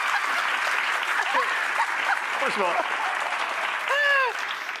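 A studio audience bursts into steady applause during a comedy talk-show interview, with someone speaking briefly over the clapping before it swells again near the end.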